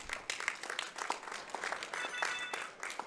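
Live audience at a Twitchcon EU speedrun event applauding, with a steady, dense patter of many hands clapping from a crowd, sustained throughout at moderate loudness.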